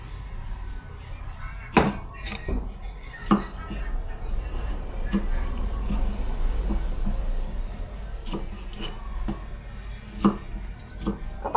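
A knife chops tomatoes on a cutting board, with irregular sharp thunks of varying strength, some loud and others light, over a low background rumble. There is no clear speech.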